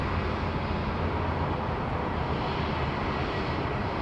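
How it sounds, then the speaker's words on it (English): A heavy airliner arriving from Tokyo Haneda on final approach to runway 34 left at Sydney Airport gives a steady, loud, broadband engine roar that holds evenly throughout with no voices. "we've got our A&A friends just on finals here for runway 34 left"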